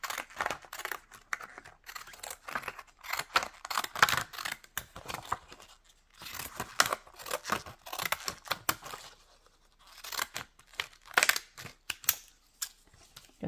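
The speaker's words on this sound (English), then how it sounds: "I think I'm going to take her picture and some fancy scissors. And I'm just going to cut around it." Fancy scissors snip around a paper picture for a junk journal tag, giving repeated close, crisp cutting clicks in bursts with short pauses between them.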